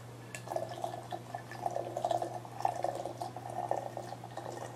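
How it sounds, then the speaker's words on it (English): Boiling water is poured into a teapot to brew tea, a faint, steady trickling pour with bubbly dripping that keeps going throughout, and nobody speaks. "pour the boiling water into your pot"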